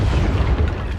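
A spell explosion booms in a Hogwarts Legacy battle, a loud, dense rumbling blast filling the whole moment without a clear start or end.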